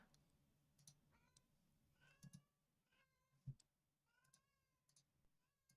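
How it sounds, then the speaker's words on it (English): A cat meows several times at a distance, faint and scattered, with occasional soft knocks in a quiet room. "Cat's meowing out here."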